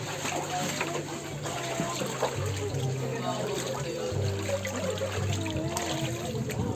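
Floodwater rushes steadily during a high tide in Malabon, where storms and a damaged dike have swamped the streets. A continuous broad wash of flowing water fills the whole stretch, with a low steady hum and faint voices beneath it.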